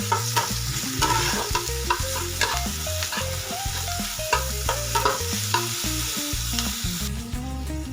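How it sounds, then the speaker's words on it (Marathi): A spoon scrapes and stirs a grated radish and green chili chutney with turmeric in a hot pan, making steady rhythmic scraping strokes over a constant sizzle, close and clear with no talking. "थोडीशी हळद व्यवस्थित मिक्स करून घ्यायचं"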